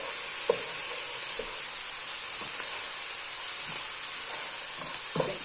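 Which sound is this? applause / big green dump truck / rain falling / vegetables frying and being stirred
vegetables frying and being stirred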